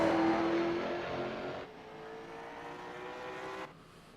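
A race car laps the LVMS Bullring short track, its engine a loud droning whine that fades slightly as it moves away, then cuts off abruptly near the end, with no talk.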